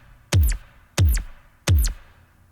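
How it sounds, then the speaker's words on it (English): Three quick, sharp zaps from a laser-like synth layer shaped by the Filter Freak effect, each with a fast attack and a sweep falling from high to low, spaced evenly about two-thirds of a second apart, loud and alone. "It's just kind of adding this laser zappy,"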